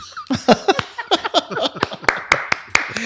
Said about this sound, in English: And then applause